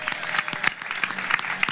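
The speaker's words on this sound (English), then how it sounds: "Another round of applause for the Avid family and what they're doing for us." A crowd at the NAMM 2014 trade show claps steadily, a dense patter of hands with a few sharper claps standing out, continuing throughout.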